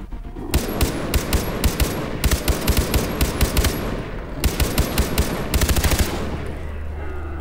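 Rapid automatic gunfire in the Far Cry 3 video game, loud evenly spaced shots in several sustained bursts with a short break between them.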